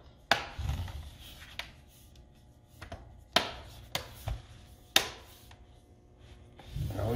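The bottom cover of an Acer Aspire 5 laptop is pressed back into place around its edge. Several sharp plastic snaps and clicks come at irregular intervals, close by, with soft handling rubs between them.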